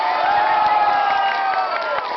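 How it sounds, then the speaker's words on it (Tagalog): A fiesta crowd at a live comedy duo show in Tondo claps and cheers loudly, a dense wash of applause with shouts and whoops throughout, close and continuous. "Pambira naman itong bata na ito, pumapalakpak na, sumisigaw ka pa dyan."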